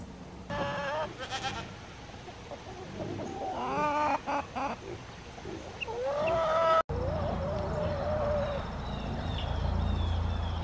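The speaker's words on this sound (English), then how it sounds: "the chickens have been following me around real close today" Several chickens cluck and murmur nearby, with varied calls and squawks overlapping against a steady outdoor background.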